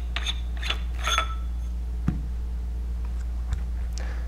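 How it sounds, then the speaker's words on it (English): Barrel of a Kaos paintball marker being twisted counterclockwise off the body: a few soft close clicks and scrapes of threads early on, then sparse small ticks over a steady low hum, no talking. "twist counterclockwise until the barrel comes free from the body"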